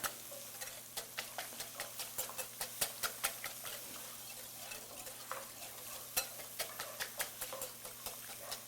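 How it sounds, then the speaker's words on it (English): Browned garlic stirred in a pan makes a faint, soft frying sizzle, punctuated by a quick series of light regular taps and clicks of the utensil against the pan. "I'll give this another stir"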